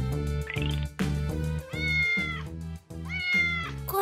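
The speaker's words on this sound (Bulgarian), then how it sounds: "Котето мяучи на дървото." A cat in a tree meows repeatedly, sounding several drawn-out, plaintive cries of varying pitch one after another over a few seconds, close and clear, set against a steady musical background with no talking.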